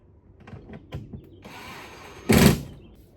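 Impact driver tightening bolts on the fiberglass clam of a Lotus Elise, a few soft mechanical clicks and whirrs and then a brief, louder burst of rattling hammering near the end, close by.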